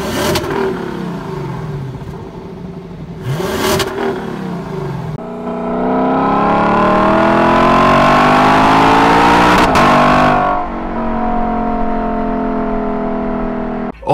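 A naturally aspirated 5.0-litre Lexus V8 in a 2022 Lexus IS 500 revs hard, with two short sharp blips followed by a long rising rev that holds loud and steady before easing off, close and alone.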